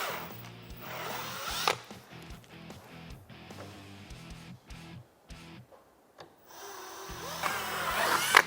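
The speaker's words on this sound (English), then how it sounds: "take our drill, and we're just going to drill right through the holes we made" A power drill bores through pre-made holes in a Honda Talon lower door, its motor whining in repeated short bursts with stops and restarts, close and fairly loud.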